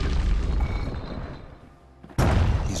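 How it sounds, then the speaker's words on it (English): Grenade explosions in Bastion: a heavy boom that rumbles and dies away, a short lull, then a second loud, sharp blast, with no talking. "Grenades."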